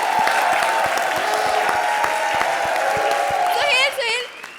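A studio audience at a Hindi comedy show applauds in a dense burst of clapping, close and loud, fading out at the end as a voice begins speaking.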